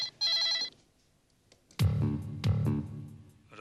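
Telephone ringing in a tense household crime drama, a short electronic trill followed by two louder bell-like rings, close and clear without talk.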